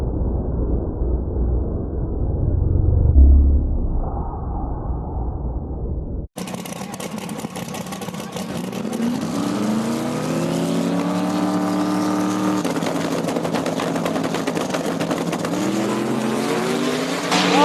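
Drag racing cars at a small tire race, a muffled engine rumble cutting to a loud, close roaring run with rising engine pitch sustained to the end.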